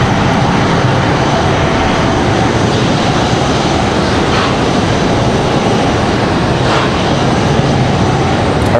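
Airliner jet engines roaring at Raleigh Durham International Airport, a loud, continuous broadband rumble that holds steady without pause.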